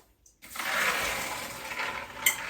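Water pours out as soaked black turtle beans are drained and rinsed, a close, steady gushing splash that starts abruptly after a brief silence and ends with a small clink.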